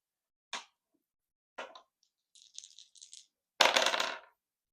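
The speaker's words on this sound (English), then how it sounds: "Let's go ahead and roll the dice here." Dice rolled for a tarot reading: several short sharp clatters spaced apart, then a louder rattling tumble that settles, close and isolated in silence.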